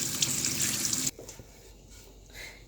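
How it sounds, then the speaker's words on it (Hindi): Cold running tap water streams steadily over cooked pasta for about a second, then cuts off abruptly, leaving faint kitchen clatter and quiet drips. "और इसको ठंडे रनिंग टैप वाटर थोड़ा सा इसके ऊपर डाल देंगे ताकि ये आपस में चिपकेगा नहीं"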